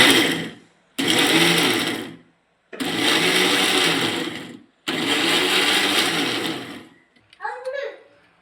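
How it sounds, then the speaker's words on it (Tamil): A kitchen mixer grinder blending watermelon pieces with sugar for fresh juice runs in three loud whirring bursts separated by short pauses, ending with a brief voice. "இந்த தர்பூசணி வந்து நம்ம வந்து மிக்சியில் போட்டு நல்லா அரைச்சி அதில் சுகர் போட்டு நம்ம அரைச்சிக்கலாம்"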